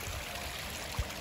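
A small brook runs with a steady, soft broadband wash of flowing water, faint and continuous, with one brief low knock near the end and no talking.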